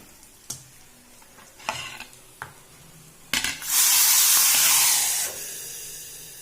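A few utensil clinks come first, then hot tempering with curry leaves hits simmering sambar in a loud, close burst of hissing sizzle lasting about two seconds before it fades.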